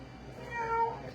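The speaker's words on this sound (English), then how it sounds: "Oh, I hear a meow." A cat lets out one short, drawn-out meow at moderate distance over a low, steady background hum.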